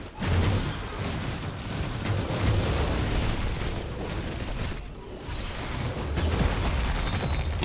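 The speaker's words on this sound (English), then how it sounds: "Loot explosion." Loot bursting out in a chaotic Outriders fight: dense, continuous blasts and crackling effects fill the whole stretch, loud and close, with only a brief dip midway.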